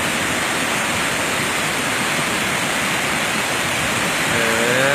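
Cachoeira da Fumaça, a tall waterfall with clean water and heavy spray in Alegre, Espírito Santo, Brazil, roars in a loud, steady broadband wash that never lets up, heard close by with no talking.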